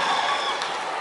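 A brief burst of steady audience applause for a teacher at a school storytelling day, dense clapping from a crowd heard for about a second.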